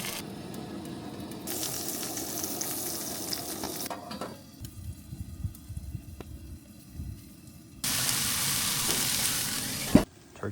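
Turkey bacon and egg frying on a camp stove outdoors in a snowy blizzard, loud crackling sizzle in two bursts with quieter scraping and stirring between, close up and without speech.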